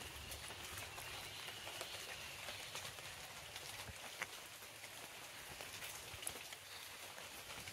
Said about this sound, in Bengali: এখন তো ঝিরিঝিরি বৃষ্টি পড়ছে।